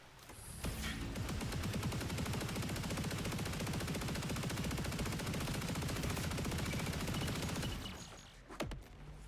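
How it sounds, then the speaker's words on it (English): In the video game Borderlands 4, a gun fires exploding gyro jets in one dense, rapid burst that lasts about seven seconds, then trails off into a few scattered pops. "fires gyro jets that explode"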